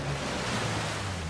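Steady rushing roar of a waterfall in the video game Uncharted 4, a broad, even wash of falling water that fills the whole moment without a break.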